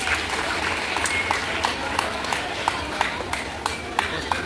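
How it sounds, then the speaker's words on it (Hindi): Applause for a Class 7 student at a school prize giving for shot put, a dense, even patter of many hands from a crowd, steady and moderately loud throughout. "एक बार उनके लिए जोरदार ताली बजाएं।"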